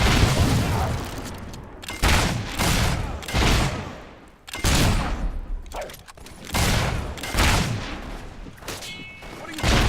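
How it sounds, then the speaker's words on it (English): Dense bursts of gunfire and heavy booms rumble in a Fable III battle, loud and sustained with brief dips, and voices shout during the fighting. "We're taking fire!"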